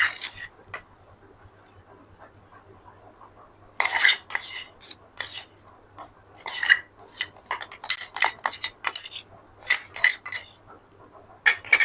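Fried bitter gourd pieces being stirred into spice powder with a spoon, giving irregular bursts of scraping, clinking metal-on-dish strokes against a quiet background.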